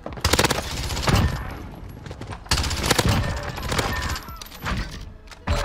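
Gunfire in the video game Modern Warfare, including shotgun blasts: loud, close shots come in two dense clusters of rapid reports separated by brief pauses, with further scattered bangs after.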